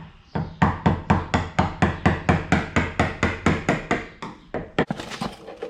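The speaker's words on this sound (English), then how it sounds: "I'm just going to hammer it in there." A scraper is hammered to prise badge letters off a GU Patrol body panel, about a dozen loud, evenly spaced metallic strikes in steady rhythm, then a brief scuffling pause.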